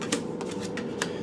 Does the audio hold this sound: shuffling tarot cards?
yes